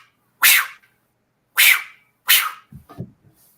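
A human voice imitates a deer's warning blow, giving three sharp, breathy snorts, each short and loud, followed by a few softer low grunts, close to the microphone.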